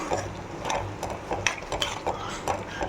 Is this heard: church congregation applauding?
no